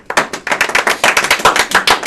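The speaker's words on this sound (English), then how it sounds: "I just hold my hands up here and you hear clapping" Bare hands clap in a quick, steady rhythm of sharp, loud, close claps, about eight per second, with no talking.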